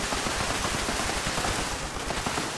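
Legacy weapon in Fallout 76 firing at a high rate, a dense, continuous rattle of rapid shots, loud and steady throughout with no pauses.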